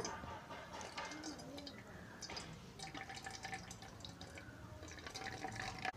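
Liquid drips and trickles in uneven splashes as bitter gourd juice is pressed by hand through a strainer, with soft handling noises and a faint voice in the background.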